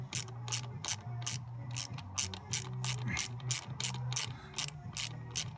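Close, rapid ratcheting clicks in a steady rhythm, over a low mechanical hum, as a screw on a BMW F10 is turned out to put the car in neutral.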